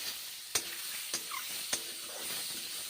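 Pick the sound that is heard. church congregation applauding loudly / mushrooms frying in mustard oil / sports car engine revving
mushrooms frying in mustard oil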